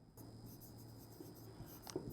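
Writing on a board during a class 9 maths lesson makes a faint, continuous scratching stroke, low and close, without any speech.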